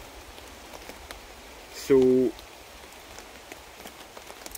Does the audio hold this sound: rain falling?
yes